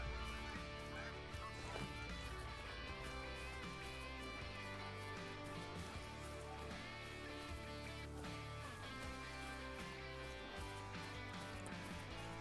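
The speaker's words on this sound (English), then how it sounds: "Oh, I'm hearing the pheasant. That is only a rooster." A pheasant rooster calls in theHunter: Call of the Wild on the Hirschfelden map with short, harsh, honking crows over a steady bed of sustained background music.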